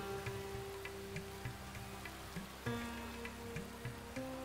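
Rainy-season rain in the video game The Settlers: Rise of an Empire, a steady soft patter with small regular drip-like ticks over a low background hum, no talking.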